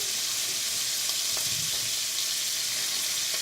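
Bacon frying in a pan sizzles in a dense, continuous hiss, close and fairly loud, with faint stirring knocks and no voices.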